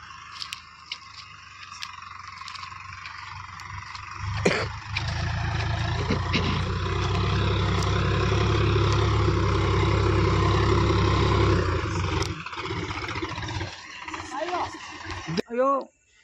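A Massey Ferguson 8055 tractor pulls a nine-tine spring cultivator through hard soil, its heavy engine droning loudly and steadily with low rumbling, dipping briefly around a sharp knock and near the end.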